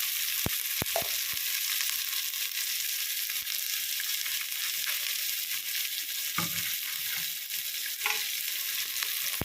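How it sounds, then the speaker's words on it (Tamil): Vegetables sautéing with ginger-garlic paste for paneer fried rice, a continuous bright sizzle with occasional spatula clicks and scrapes throughout. "நல்லா வதங்கினது காயெல்லாம் நல்லா வதங்கிட்டோம்."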